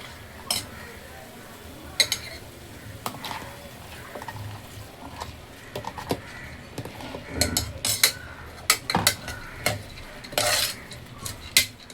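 Dal going into a cooking pan, with close clinks and scrapes of a metal spoon against the pan and brisk stirring over a faint sizzle, in irregular bursts.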